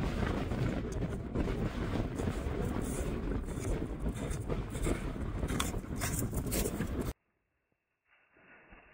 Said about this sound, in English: it's still windy up here